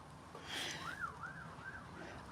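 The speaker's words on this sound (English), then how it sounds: "Sounds like ambulance, actually." An ambulance siren rising and falling in slow wailing sweeps, heard at a distance and fairly faint over background noise.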